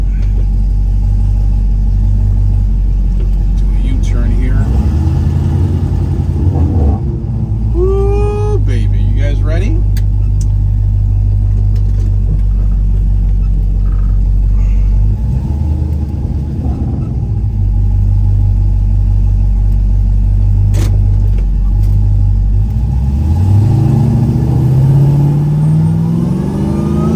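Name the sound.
1970 Plymouth GTX Hemi engine rumbling and accelerating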